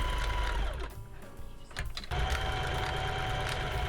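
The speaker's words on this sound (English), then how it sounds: "now I'm going to go and top stitch my casing in place" A sewing machine runs a fast, steady top stitch along a garment casing, loud and close, dipping briefly midway before resuming its continuous whir.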